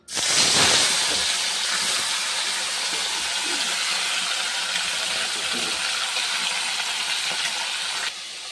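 Fish, an amudi catch, drops into hot oil in a pan, with a loud hiss that bursts at the start and then settles into a strong, steady sizzle for several seconds before cutting off, with no voices.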